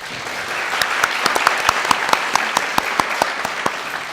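An audience claps at a university presidential candidates' public debate at Sungshin Women's University, a dense, even round of applause with a few sharp, distinct claps standing out near the front.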